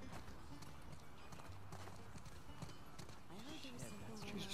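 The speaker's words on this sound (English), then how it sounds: "I got a horse on top of that other horse." Horse hooves clip-clop in The Last of Us Part 2, a quick galloping rhythm mixed with game sounds and a faint whinny, while a player talks over it.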